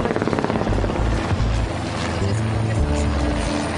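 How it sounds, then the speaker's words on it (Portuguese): Helicopter flying over Jerusalem, a loud steady rotor chop with a heavy low drone, close overhead and continuous throughout. "Tem vários helicópteros passando o tempo todo pra lá e pra cá."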